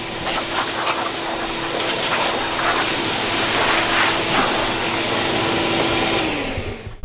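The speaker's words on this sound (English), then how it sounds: "It's very important to blow out the center cavity of the pull bar to get all the shavings out from the inside." Compressed air blasts shavings out of the center cavity of a door pull bar in one long continuous hissing rush that lasts several seconds, then cuts off abruptly.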